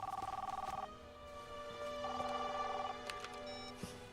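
A telephone ringing at the far end of a call, a buzzing trill in two bursts separated by a pause, faint and alone.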